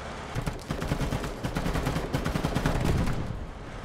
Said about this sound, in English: I'm trying to shoot him down